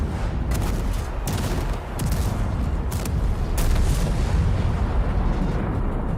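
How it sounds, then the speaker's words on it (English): Gunshots and artillery fire in the World of Tanks video game, loud booming blasts and sharp cracks repeating irregularly over a heavy rumbling background. "Shots will ring out like you've never heard them before."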